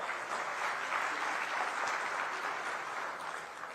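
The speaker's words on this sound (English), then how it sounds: "Can we have a round of applause, please?" A large audience applauds steadily, a dense wash of clapping that carries on without pause from start to finish.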